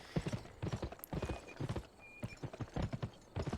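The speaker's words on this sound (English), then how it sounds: "I can hear a donkey or something." Horse hooves clip-clop in a steady, uneven rhythm on a hard surface in the PS2 video game Gun, with a brief high whinny partway through, fairly close and clear.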